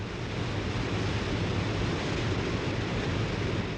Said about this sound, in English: Here, the Zambezi plunges over a cliff and thunders into a chasm 350 feet deep.